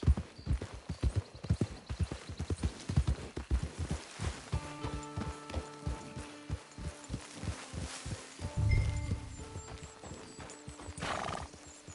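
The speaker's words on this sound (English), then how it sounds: "It's your horse." Horse hooves clip-clop steadily in Red Dead Redemption 2 as a horse walks along, with a neigh partway through, over layered game music and no talk.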